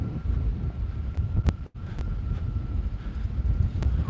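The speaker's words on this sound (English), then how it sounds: "It is now getting really windy here." Strong wind blows outdoors and buffets the microphone in a steady, loud roar with a brief dropout partway through.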